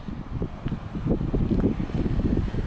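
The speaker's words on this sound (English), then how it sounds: "It's a little bit windy today." Gusty wind buffets an outdoor microphone beside a Dodge Journey SXT, a steady low rumbling roar that swells and churns throughout, loud and close with no voices.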